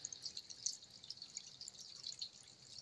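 Water drips from an ice-cold, sweating pipe in a new apartment building, a quick irregular patter of faint, close drops over quiet background.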